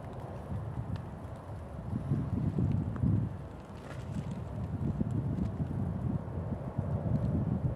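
Wind gusting outdoors around flowering snowdrops, a steady low rumbling buffet across the mic that swells and eases in waves, with no voices.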